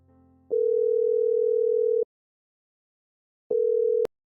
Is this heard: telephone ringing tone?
yes